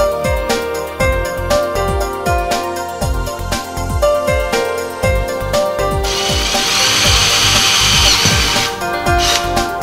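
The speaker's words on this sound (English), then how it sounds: "Then make the thread in the holes." Thread tapping in the holes of a CNG intake manifold during a sequential injection kit install, a busy run of repeated sharp metallic tool strikes and whirring, with a harsher grinding wash for a few seconds near the end.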